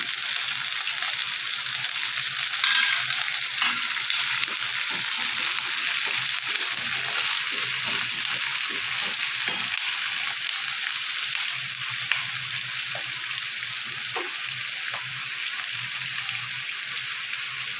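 Onions and whole garlic cloves fry in oil in a pan with a constant, close, crackling sizzle and small scattered pops, heard alone without talk.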